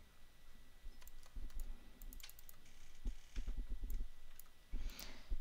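Mac keyboard keys clicking in quick bursts of typing as code is entered into TextEdit, with short pauses between runs of keystrokes and a faint background hum.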